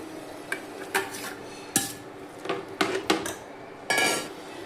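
Mutton pieces going into roasted masala in a pan for homemade mutton rassa, heard as a handful of separate clattering scrapes and knocks of utensil on metal, close and fairly loud, with quiet gaps between them and no talking.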